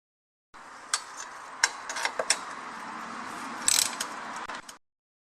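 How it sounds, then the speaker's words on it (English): A ratchet wrench with a 10mm socket loosening battery bracket bolts on a Pontiac Vibe, giving a few close, crisp clicks and metallic pawl ratcheting over a low background hum, then stopping. "I'm using, just as you can see, a ratchet wrench with a 10mm socket"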